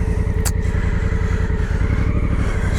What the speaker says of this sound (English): So I'm riding my Africa Twin. Maybe you can hear it.